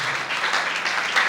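A church congregation applauds together, a dense, even wash of clapping at steady volume from start to end with no pauses.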